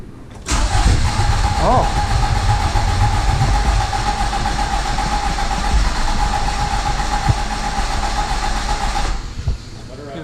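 A 1982 Fiat X1/9 engine cranks and catches, running roughly and loudly for several seconds before cutting off, with people talking briefly over it.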